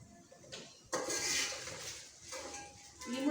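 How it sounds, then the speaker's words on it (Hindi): Rice poured into a pot of boiling salted water in a home kitchen: a quick rushing patter that swells, then settles into a quiet bubbling simmer with a faint clink of a pot. "अब वो चावल भी डालने हैं।"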